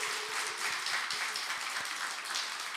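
A church congregation claps for the praise team during a Wednesday evening worship service, producing a continuous wash of hands, with soft, regular low thumps running underneath the clapping.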